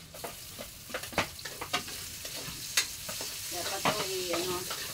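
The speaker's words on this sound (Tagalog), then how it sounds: "nagisa ko na ang bawang sibuyas" Garlic and onion sauté in a hot pan, with a steady sizzle broken by repeated scraping and clinking stirs of a utensil, close and fairly loud, with no voices.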